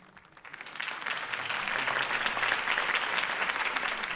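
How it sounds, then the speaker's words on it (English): A crowd at a Harvey Dent campaign speech in a Batman video game swells into applause, rising from quiet to a steady, dense clapping that holds at moderate volume. "If only Mr. Wayne, my campaign's largest backer, could have heard that applause"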